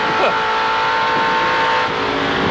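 Race cars at Symmons Plains circuit in 1986, engines droning loud and close with a steady high whine and a brief squeal near the start, under faint commentary.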